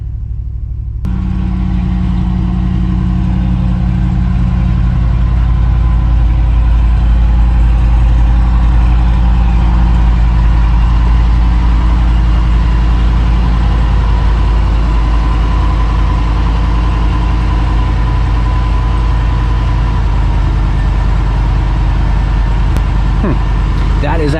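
A 1993 Chevy K3500 pickup with a 454 V8 idling nearby with its EGR valve disconnected, a loud, steady low rumble that starts after a brief moment and holds evenly throughout.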